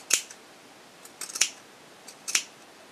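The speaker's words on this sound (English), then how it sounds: "Now trimming the backer." Scissors snip through the fabric backer of a cloth pad in a quiet room, three or four crisp close-up cuts spaced about a second apart.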